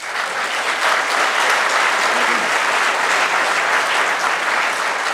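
Dense, steady applause fills a hall as the audience claps at a 2015 Schenectady mayoral debate, loud and continuous throughout without a break.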